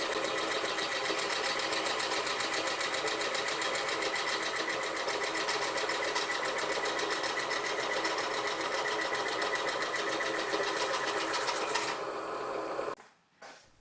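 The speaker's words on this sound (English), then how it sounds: "This is it cutting a small brass rod with the same scroll saw blade." A die filer machine drives a scroll saw blade through a small brass rod, a fast steady mechanical chatter at even loudness that cuts off near the end, leaving near silence.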